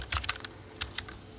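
Fast typing on a computer keyboard while writing a C++ program, a short burst of close, crisp key clicks followed by a brief pause and a few more taps.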